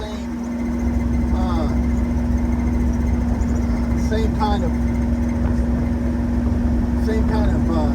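A 1963 Ford F250 truck engine idles with a steady low rumble and a constant hum throughout, while someone talks over it.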